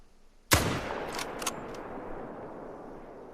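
A single loud rifle shot fired at a buck in a hunting game at Layton Lake, a sharp close crack with a long rolling echo tail and a few faint clicks after.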